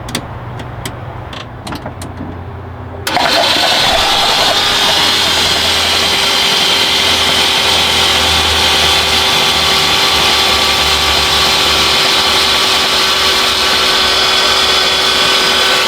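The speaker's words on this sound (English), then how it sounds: "Let's crank it over" A BMW E36 turbo engine is cranked over after being flooded with oil and lacquer thinner. A few clicks come first, then a loud, steady whirring drone holds close and unbroken to the end.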